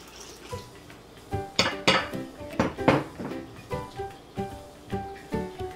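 Water poured a little at a time into maida flour batter in a pan for fried fokso, with repeated clinks and knocks of a utensil against the pan in a steady rhythm, close and moderately loud.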